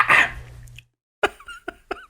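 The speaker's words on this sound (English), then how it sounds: "I do cough virus particles on my microphone." A single close cough into a microphone, sharp and loud at the start and then fading, followed by a pause and a few brief mouth and breath sounds.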